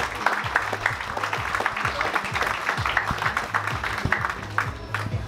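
Applause greets cyclist Quentin Beu at a rider presentation, steady clapping from a crowd running throughout with low rhythmic thumps of music or a voice underneath.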